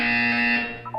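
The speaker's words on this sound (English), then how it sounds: "When you hear the buzzer, look down at the floor." Electronic test-chamber buzzer from the video game Portal 2, a single loud, sustained harmonic drone held for most of a second, then tapering off with a faint tone at the end.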